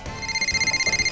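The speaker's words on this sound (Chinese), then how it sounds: "你手机响半天了" A mobile phone rings indoors in a home, with a bright electronic ringtone pulsing in a quick, steady rhythm, fairly close and clear, with no talk over it.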